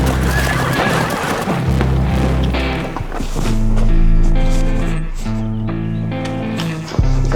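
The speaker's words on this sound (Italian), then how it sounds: "Stiamo provando a prendere un cavallo che è stato ferito da un altro, probabilmente da un morso." Horses on a working ranch in the American West neigh and whinny over steady low rumbling and movement, with hooves shuffling nearby and the calls rising loud around the middle, all without any talking.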